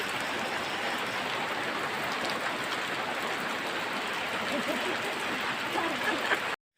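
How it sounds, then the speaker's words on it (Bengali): Heavy, steady downpour drumming continuously around a house for the whole stretch, a dense broadband hiss of rain that stays loud and unbroken until a sudden cutoff at the end. "বৃষ্টির শব্দ শুনতে পাচ্ছেন?"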